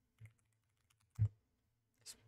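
Three isolated keypresses on a computer keyboard, quiet and widely spaced in a silent room, each a short soft click.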